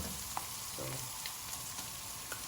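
Rice stir-fries for Yang Chow fried rice, a faint, steady sizzle with light scraping and occasional clinks of a utensil against the pan.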